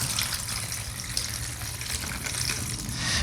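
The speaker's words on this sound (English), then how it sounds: "Add some orange juice" Orange juice pours steadily into a blender jar for a green smoothie, a continuous close gushing splash with no talking.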